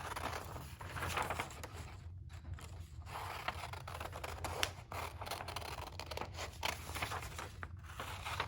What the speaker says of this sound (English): So I can just cut this on the shorter spot.